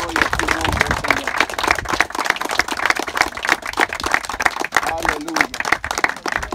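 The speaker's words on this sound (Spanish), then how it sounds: "¿Por qué no le dan un aplauso de despedida a Agustín?" Farewell applause from mourners at a funeral service, brisk uneven hand clapping from a gathered group that carries on steadily, with voices faintly mixed in.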